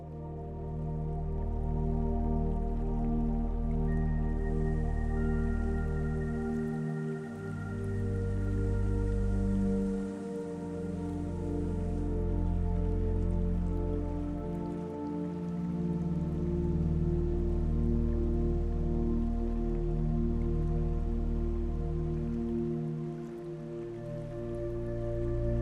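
Steady rain falls on bushland along the Cape to Cape Track in Western Australia, a continuous close wash of drops on leaves and surfaces with no voices, holding even in loudness throughout.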